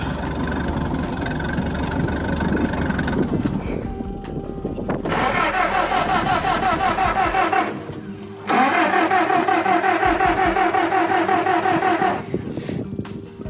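A vehicle engine cranks, catches and settles into a steady loud idle while warming up, with a brief dropout and restart partway through; the sound is close and continuous.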